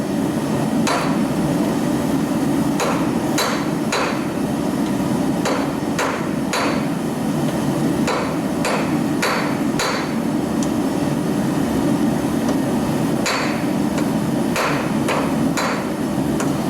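A rounding hammer forges a hook, striking hot metal in sharp, ringing blows at an irregular pace, some in quick pairs and others spaced out, over a steady loud workshop roar.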